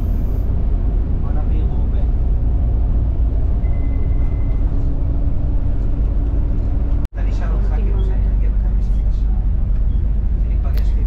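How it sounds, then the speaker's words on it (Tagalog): Steady, loud rumbling road noise inside a moving city bus in Israel, a dense continuous roar with a sharp brief dropout midway and faint voices in the cabin. "maingay yung background ng bus"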